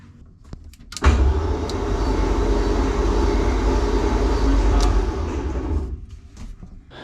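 A VR6 engine with all its spark plugs removed is cranked over by the starter. After a brief click, a loud, even whirring drone holds for about five seconds with no compression pulses, then fades away.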